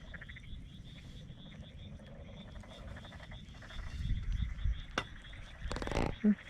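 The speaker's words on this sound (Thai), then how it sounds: "โอ้เขียดดอกครับนี่ลูกใหญ่เลย" Frogs croak after fresh rain in a rice field in Japan, with steady pulsing calls in the background at night, plus occasional nearby rustling and handling bumps.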